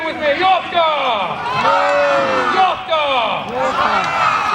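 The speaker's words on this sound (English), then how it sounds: "Let's hear a cheer." At an outdoor medieval festival, a crowd shouts a battle-cry chant in unison, loud rising group yells in two or three surges, with many overlapping voices close by.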